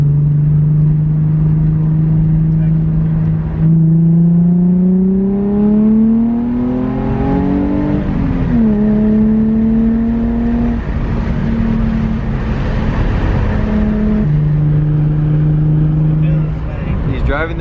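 Nissan 350Z fitted with a Tomei exhaust accelerating nearby, its engine note rising through gears in loud sweeping pulls with shifts between, briefly easing before climbing again.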